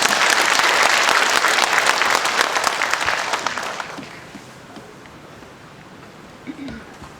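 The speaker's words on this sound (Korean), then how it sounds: "다시 한번 큰 박수를 부탁드립니다" Audience applause fills a concert-hall crowd at a speech event, loud and dense for about four seconds before fading into scattered claps and low room noise.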